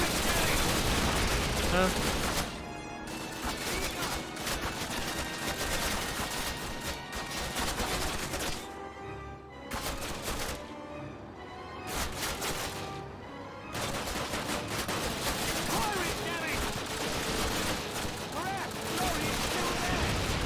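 Rapid video-game gunfire crackles through a busy, loud mix of continuous shots and bursts, with a brief lull midway and a player speaking over it.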